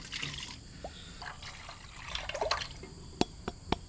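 Liquid for halwa poured through a strainer, with soft intermittent trickles and drips, a few sharp splashes near the end, heard close and fairly quiet.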